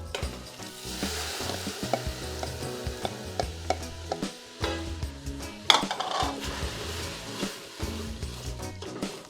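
Rice goes into a pan of sizzling translucent onions and is stirred, with a spoon scraping and knocking against the pan in uneven strokes over a continuous close frying hiss.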